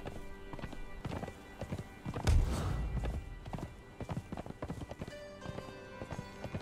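Horse hooves clip-clop in the video game Conan Exiles as a mount trots across a desert, a steady close rhythm of hoofbeats with a brief louder thump partway through and no talking.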